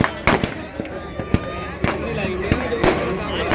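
Firework rocket shots set off inside a Ravana effigy at a Dussehra Ramleela in Rohini, heard as repeated sharp cracks and pops over a steady crowd din, with voices talking nearby.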